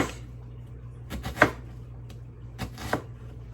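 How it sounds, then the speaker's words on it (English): Knife slicing onions thinly into half moons on a cutting board, a few distinct crisp chops spaced irregularly over a faint background hum. "I'm still slicing them kind of thin though, because I want them to caramelize"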